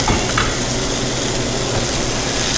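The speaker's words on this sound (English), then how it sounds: "we have a hot grill with a little too much smoke, and we're going to sear the chicken" Chicken searing on a hot, somewhat smoky grill gives a steady, loud sizzle and hiss that holds throughout, with no talking over it.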